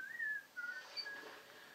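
A paperboy whistles a few faint, thin rising and falling notes in The Sims, with soft background ambience and no talking.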